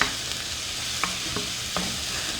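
Purple onions sauté in a pan for imam bayildi, giving a soft, steady frying hiss with three or four light stirring taps spaced across the moment. No one speaks.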